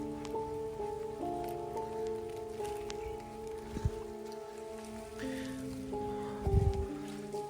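Heavy rain pours down at night around an old house, a steady patter under low, droning hum, with a few scattered thumps and a louder splashing burst near the end.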